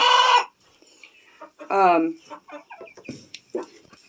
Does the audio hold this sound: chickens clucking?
yes